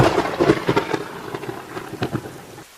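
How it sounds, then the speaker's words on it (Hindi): A rain and thunder sound effect: a low rumble of thunder with heavy rain, several dull booming pulses rolling over steady rainfall, then dropping away to quiet at the end. "थोड़ी देर में बारिश होना शुरू हो जाती है"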